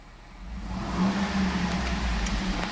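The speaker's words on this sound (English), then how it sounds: "I'm going to rev the engine." A 2009 GMC Yukon Denali AWD with a 6.2-litre V8 is revved from idle, its low rumble swelling once into a sustained rev and holding. The sound is moderately close and nobody speaks over it.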